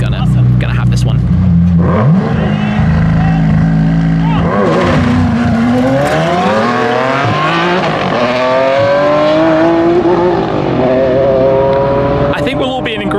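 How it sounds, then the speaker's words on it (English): A Ferrari Enzo and a McLaren Senna hypercar launch in a straight-line drag race, their engines roaring loud and close as the pitch climbs through several rising gear pulls, with tire noise at the start. "I think we'll all be in agreement that the Enzo wins the sound contest, but the Senna definitely won the drag race"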